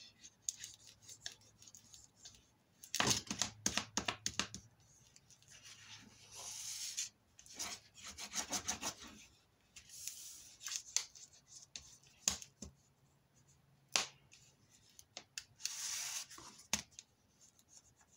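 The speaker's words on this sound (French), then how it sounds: "Et hop, je marque mes plis." Card for a homemade baby gift box is creased along its folds with close, dry rubbing and scraping strokes that come in short irregular bursts, with no talking.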